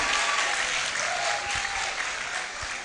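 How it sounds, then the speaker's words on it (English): An audience at a law faculty roll call ceremony applauds an awardee, with steady, continuous crowd applause that is fairly distant and fills the whole stretch without talk. "let's applaud him while he makes his way up"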